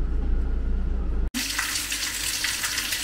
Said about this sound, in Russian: Вот у нас вода появилась в нашем источнике.